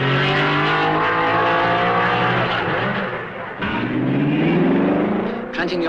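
Open-wheeled 1950s Formula 1 cars, a Lancia among them, race at Spa-Francorchamps, their engines rising and falling in pitch as they rev and sweep past, loud and close, with a commentator talking over the action.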